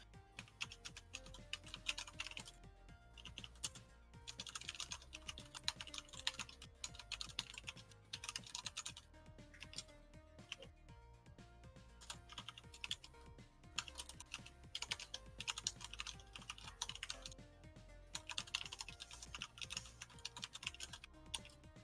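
Someone types on a computer keyboard while coding a StarCraft AI, a fast, steady clatter of keystrokes with brief pauses, close and continuous, with no voices.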